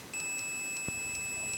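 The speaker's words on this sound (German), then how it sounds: "dann hier der Piepser" A Lidl digital multimeter's continuity tester gives a steady, high-pitched electronic beep that holds throughout at a fairly quiet level, with one soft click partway through and no talking.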